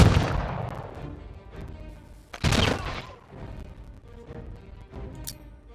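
Industrial Era units trading ranged fire in the strategy game Humankind, a loud opening volley followed by another burst midway and fainter scattered shots, with no talking.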